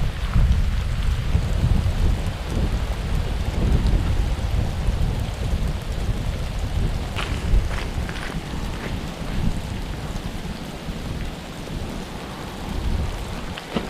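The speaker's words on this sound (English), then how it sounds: "Wow, is it windy, everybody?" A constant roar of strong, cold wind buffeting the recording on a hike, heavy low rumble with gusty rushes throughout.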